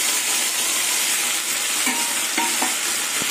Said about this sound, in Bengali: এবার মশলা দিয়ে মাছ কষিয়ে নেব